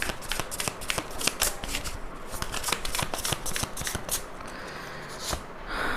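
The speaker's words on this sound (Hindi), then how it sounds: "चलिए और कार्ड्स निकालते हैं।" Tarot cards being shuffled by hand, close and crisp, with repeated quick riffling bursts and soft flicks in an otherwise quiet room.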